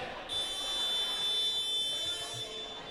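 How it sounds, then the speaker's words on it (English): A buzzer sounds at a dodgeball tournament to mark the end of a match, a sustained steady tone holding for more than two seconds over loud gym and crowd noise. "the buzzer goes off, signaling our final sudden death for the day"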